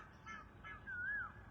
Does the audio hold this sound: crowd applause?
no